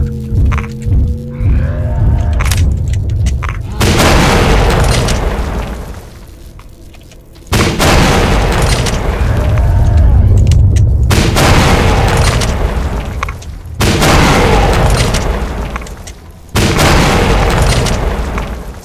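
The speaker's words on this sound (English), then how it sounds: "Fast-loading launcher." Grenade launcher shots and heavy booming explosions in the video game Oblivion Lost, a series of loud, close blasts with long rumbling tails, separated by brief quieter gaps.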